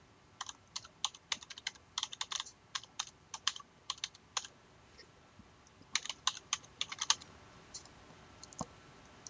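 Typing on a computer keyboard, quick irregular bursts of light plastic key clicks with short pauses between runs, close and fairly quiet, with no talking.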